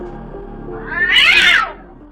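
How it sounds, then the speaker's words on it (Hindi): A black cat with glowing red eyes growls and yowls in a single rising, harmonic cry that swells loud near the middle and fades, alone with no talk. "उसकी आंखें चमकती हैं और वही गुर्राती है।"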